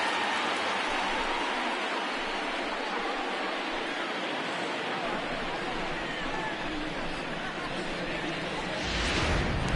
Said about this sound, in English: And Dan, when it comes to pitching in the rain, what changes?